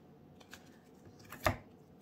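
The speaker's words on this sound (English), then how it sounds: "I'm going to be shuffling from three decks." Tarot cards being shuffled by hand, soft papery riffles and taps that are quiet and close, with one sharper snap of cards near the end.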